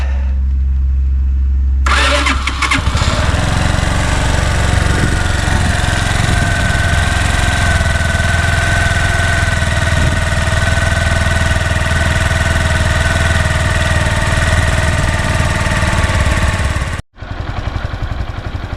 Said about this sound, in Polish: Po tych kilku, kilkunastu minutach rozgrzewania silnik jest już wyraźnie ciepły, ładnie pracuje